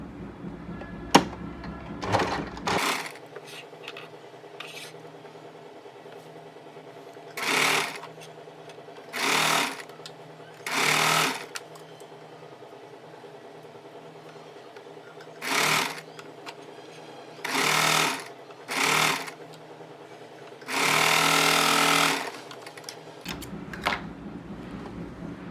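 A sewing machine stitches palazzo fabric panels in short whirring runs of a second or two each, separated by quiet pauses, with one longer run near the end; close and steady, no talk.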